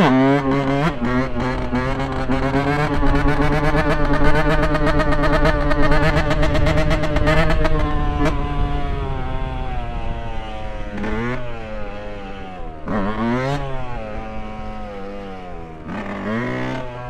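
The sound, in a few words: KTM four-stroke supermoto motorcycle engine riding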